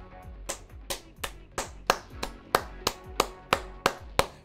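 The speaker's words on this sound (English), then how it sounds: "Round of applause for our man." Steady, evenly spaced claps, about thirteen sharp hits at a slow even pace, like one person slowly applauding during a World of Warcraft PvP duel session, moderately loud with no talk over them.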